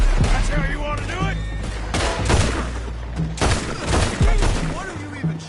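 Gunfire in the video game Red Dead Redemption 2 crackles in repeated sharp bursts and rapid volleys, mixed with sporadic voices talking between and over the shots.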